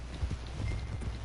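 Horse hooves clip-clop in a PS4 video game, a quick run of soft, evenly spaced hoof beats heard close and alone for a brief moment.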